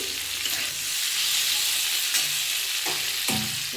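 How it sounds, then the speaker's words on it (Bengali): Spices sizzle and hiss steadily in a hot pan, with occasional scraping stirs of a utensil, close up and without talking. "আমি এটা একটু ভালো করে কষিয়ে নিচ্ছি"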